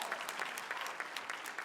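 Commencement crowd of graduates and guests at a University of Michigan-Flint ceremony applauding, a dense steady wash of clapping with scattered sharper claps throughout, moderately loud and continuous.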